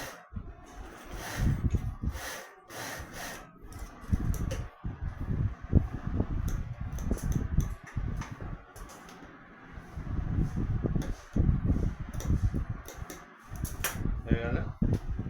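A sewing machine runs a single continuous seam along the 6.5-inch opening of a trouser pocket, its close, busy mechanical stitching chatter going steadily for about fifteen seconds with brief slowdowns.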